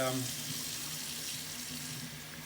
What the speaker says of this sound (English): forgive the water noise.